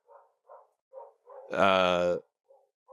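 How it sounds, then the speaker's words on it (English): Dogs bark outside, a string of short, faint yips followed by one longer, louder howling bark, then more faint barks, all at a distance. "there are a lot of dogs barking outside"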